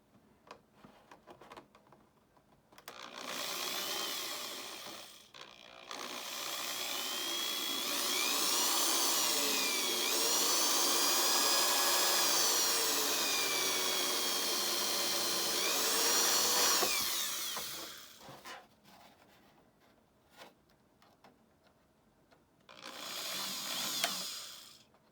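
A drill bores holes in a Lexan RC car body: two long, high-pitched whining bursts with rising and falling pitch, separated by quieter gaps with small clicks and handling noises, then a shorter final burst.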